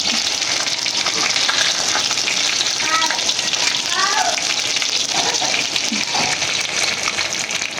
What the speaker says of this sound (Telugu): సిమ్లో ఇలా 2 వైపులా కాల్చుకోవాలి. ముక్క విరగకుండా అటు ఇటు తిప్పుకోవాలి.